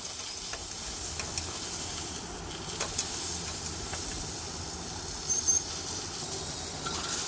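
Pointed gourd pieces frying with turmeric in a covered pan, giving a steady, close, hissing sizzle with occasional faint crackles and no talking.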